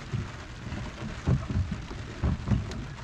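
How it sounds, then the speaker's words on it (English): Heavy rain falls at sea on an inshore fishing boat, a steady hiss with low rumbling gusts and thuds, moderately loud and continuous. "This is the first time really we've had any heavy rain."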